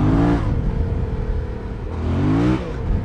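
A 2020 Yamaha MT-07 motorcycle engine revving in third gear around 4,000 rpm, a loud close growl with rising and falling pitch that swells at the start and again near the end.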